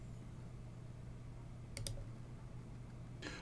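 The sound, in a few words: mouse click on a software button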